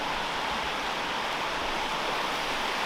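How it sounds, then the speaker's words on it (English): A hidden waterfall in an outdoor setting, a steady broadband rush of falling water with no breaks, close and continuous throughout. "It's a waterfall, but I don't think it's the waterfall."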